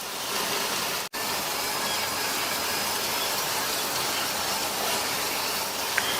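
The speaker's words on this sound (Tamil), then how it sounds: "அந்த சைடும் ஃப்ரை ஆகட்டும்." Elephant foot yam slices frying on a tawa, a steady loud sizzle and hiss that runs continuously, broken once by a momentary dropout.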